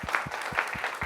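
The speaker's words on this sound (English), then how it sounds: "So let's get a round of applause for that." Applause from an audience at a live storytelling show in Los Angeles, with steady clapping, a dense, continuous patter of many hands at moderate loudness that carries through the short moment without any voices over it.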